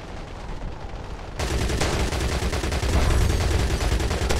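Rapid gunfire from a Crossfire X multiplayer shooter match, a loud, continuous stream of shots that bursts in after a quieter second and keeps rattling to the end.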